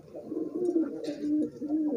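A pigeon coos softly and repeatedly at close range, low rolling calls with no other sounds.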